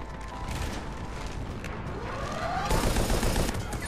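Gunfire erupts in a Cerberus firefight in the Mass Effect 3 video game, a dense continuous barrage of shots and mechanical clatter that swells louder toward the end.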